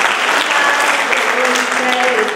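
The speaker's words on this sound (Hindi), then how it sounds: "तालियां बजा दीजिए।" Loud, steady crowd applause at a Hindi poetry gathering (kavi sammelan), a dense continuous roar of clapping with a few voices calling out underneath, close and filling the whole stretch.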